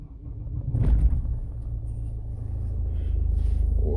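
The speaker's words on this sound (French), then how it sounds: "Je vais démarrer la voiture." A car engine turns over and catches with a low, loud rumble near the one-second mark, then settles into a steady idle that holds close by to the end.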